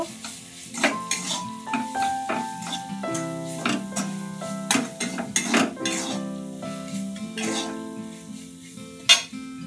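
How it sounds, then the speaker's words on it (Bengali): Turmeric and dried chili powder with salt sizzle in a pan for a village-style taro and prawn curry, while a metal spatula scrapes and clinks against the pan in quick, irregular strokes. The sounds are close, and no one speaks. "এখন নেড়ে চেড়ে কষিয়ে নেব।"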